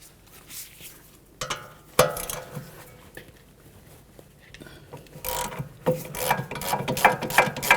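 A ratchet with a 15mm socket loosens the upper sway bar link bolt on a 2013-2015 Chevrolet Malibu, clicking in short bursts of rapid pawl ticks with pauses and clanks between strokes, close and clear.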